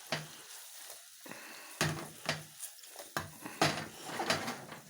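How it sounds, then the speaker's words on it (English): Chicken, noodles and vegetables saute on high heat, bursts of sizzling and scraping stirs rising in uneven pulses every half second or so, with quieter gaps between tosses, close and moderately loud, no talking. "we've been sauteing this for about 4 or 5 minutes on a high heat."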